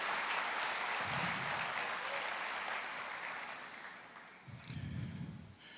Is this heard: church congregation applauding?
yes